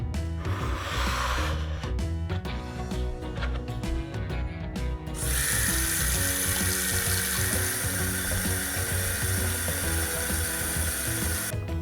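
Tap water runs steadily and loudly while a toy doll's hair is washed at a sink, with a brighter, fuller stream coming in partway through and continuing to the end; no one speaks.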